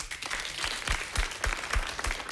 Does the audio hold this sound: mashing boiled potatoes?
no